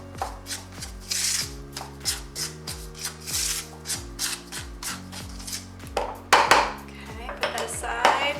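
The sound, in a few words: mixing granulated sugar and cornstarch in a bowl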